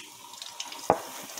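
Water runs steadily from a sink tap while a kiwi bird bathes in the basin, a soft continuous trickle with a single brief splash or knock partway through.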